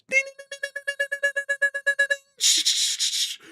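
A rapid series of short, evenly spaced electronic beeps tapping out Morse code, followed by a burst of bright noisy static.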